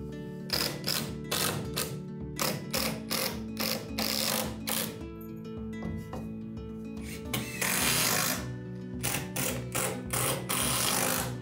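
Power driver sinking long screws through a stair tread into a wall on a half-open straight staircase, repeated short whirring bursts in quick succession, close and fairly loud.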